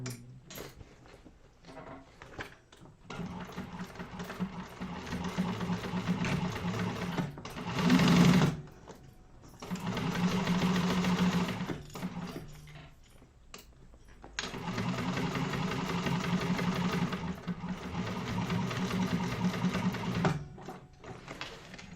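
A sewing machine stitches a crossbody bag in bursts, three sustained runs of whirring stitching separated by short pauses, close and steady with no talking.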